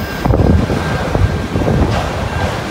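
A train passes in Georgia with a steady, loud rumble of rolling rail cars, close by and heavy with wind buffeting the microphone, and no talking.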